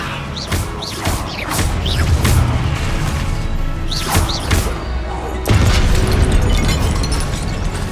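Confringo blasting spell explosions in Hogwarts Legacy, a series of booming bursts and crashes with whooshing spell sounds over a rumbling battle background, loud and repeated.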